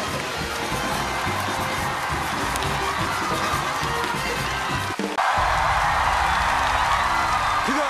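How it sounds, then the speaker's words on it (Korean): Audience applause and cheering at a televised comedy magic show, a broad crowd roar filling the whole stretch, dipping briefly then resuming at full strength. "박수!"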